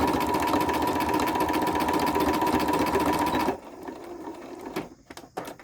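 A sewing machine stitches down fabric hexagons on a placemat, its fast steady motor whir and needle clatter running loud and close, then stopping abruptly, followed by a few faint handling clicks.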